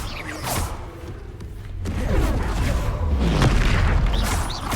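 Confringo fire-blast spell explosions in the video game Hogwarts Legacy, a string of booming blasts and whooshes during arena combat, loud and close with layered game effects.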